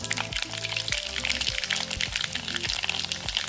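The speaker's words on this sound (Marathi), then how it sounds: "पण यामध्ये आता मोहरी घालायची आहे." Mustard seeds and asafoetida hit hot peanut oil for a radish pickle tempering, giving a steady close-up sizzle and crackle with scattered pops throughout, no talking.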